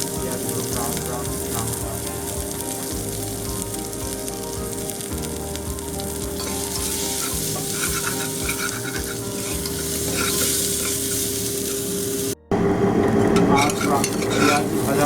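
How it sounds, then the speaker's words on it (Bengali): Two chopped onions frying in oil in a pan for a Bengali-style mutton curry, a loud continuous close sizzle with stirring scrapes throughout and a brief cut near the end. "পেঁয়াজ, যেটা আমি 2টো পেঁয়াজ কেটে রেখেছিলাম, এটা আমি ভালো করে তেলের সাথে ফ্রাই করবো"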